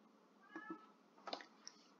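A pet cat meows a few times from across a room, short distant calls separated by brief pauses against quiet background hiss.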